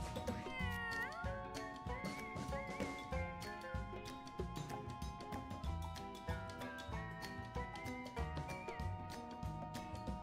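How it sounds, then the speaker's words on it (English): A kitten meows repeatedly in the Mewgenics video game, the cries sitting over busy, rhythmic game music that plays steadily throughout. "This is just a kitten that moves in the water."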